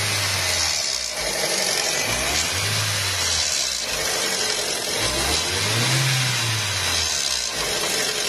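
The Zetec Rocam engine of a Ford Ka, suspected of timing chain noise from a faulty hydraulic tensioner, revs up and drops back again and again as the throttle is pressed and released, loud and close with no talking.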